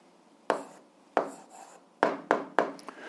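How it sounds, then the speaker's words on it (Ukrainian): Pen strokes on paper while an answer is written down, five distinct scratchy marks in an uneven rhythm, close and fairly soft with no talk. "Ну що ж, записуємо відповідь."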